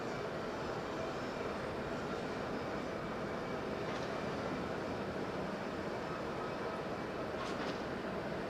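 Airplane landing on the outer runway at Okinawa airport, heard as a steady, broad roar of jet noise that holds loud and unbroken throughout, with no speech.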